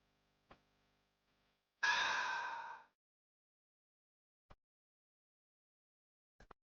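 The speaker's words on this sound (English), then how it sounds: "Why is he breathing like that?" A single heavy, breathy exhale from a character in the video game Elden Ring, lasting about a second in near silence, framed by a few faint clicks.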